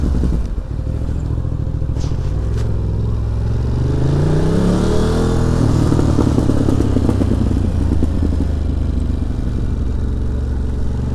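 A decatted Ducati motorcycle engine rumbles loud and close while riding through New York City, with a steady throaty drone and a rising rev partway through, no talk over it.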